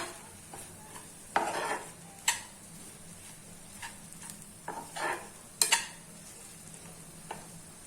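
A spoon stirs a sewai rabri mixture in a pan, quiet scraping and soft clinks at irregular intervals against a faint background hiss.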